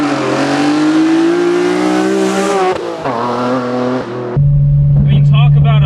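A BMW E46 M3 fitted with an Evolve carbon airbox revs hard, its engine note climbing steadily through the rev range before dropping off and settling into a loud, steady high-pitched drone, close and dominant.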